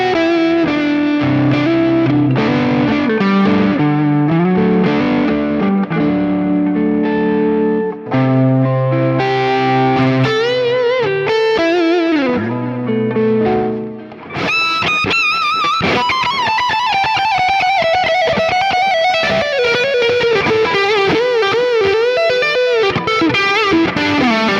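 Kramer Satchel Pacer electric guitar on the neck pickup played through heavy distortion, riffing chords and sustained notes, then soaring bending lead lines, loud and close with no talk.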